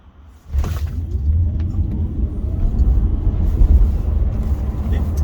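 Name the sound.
Tesla Model 3 Performance electric car accelerating from traffic light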